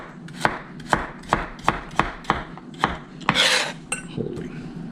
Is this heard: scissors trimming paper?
no